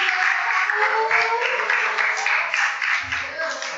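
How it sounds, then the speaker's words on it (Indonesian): A classroom of students applauding together in a lesson, a loud, close, continuous patter of clapping with some voices mixed in underneath. "Tepuk tangan"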